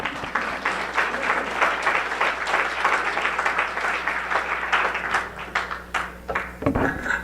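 Audience applause fills a hall welcoming a speaker to an animal protection leaders' event, steady dense clapping for several seconds before thinning out near the end, with a faint low hum beneath.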